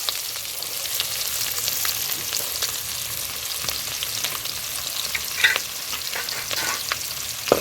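Onions and green chillies frying in hot oil with cumin, a steady close sizzle with occasional crackles and stirring scrapes, no voices.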